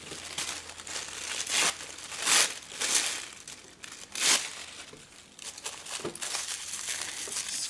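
Tissue paper is scrunched and twisted by hand for a fabric scrap sewing project, giving several bursts of crisp crinkling and rustling at close range, separated by quieter pauses, with no voices.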